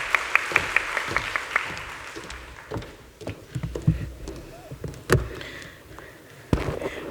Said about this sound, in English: Let's give Cllr Myeni a round of applause.